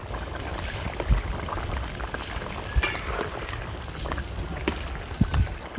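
Turnip curry broth boiling hard in a pot on a village-style stove, a continuous close bubbling and gurgling with occasional sharper pops and spoon knocks, no talk.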